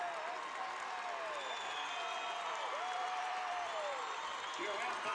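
Basketball crowd at a boys' regional tournament final in a gym, cheering and applauding steadily at halftime as a broad, continuous roar with whistles and shouts rising through it.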